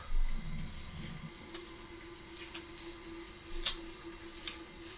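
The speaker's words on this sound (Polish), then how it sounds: "odkręciłem zimną, wręcz lodowatą wodę" Ice-cold water running from a bathroom tap on a hot day, a steady faint hiss with soft splashes into a sink and a few brief drips, no voices.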